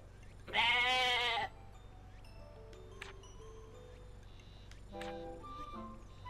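A goat in the Atelier Ryza video game gives one loud, wavering bleat near the start, followed by fainter scattered game sounds over a low background hum.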